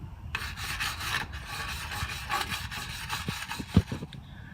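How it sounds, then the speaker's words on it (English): A steel bristle brush scrubs the rear brake shoes of a Jeep TJ drum brake, a continuous close rasping scratch in quick back-and-forth strokes with a few sharp ticks near the end. "I'm going to scrub down these rear brake shoes and even this rear brake rotor."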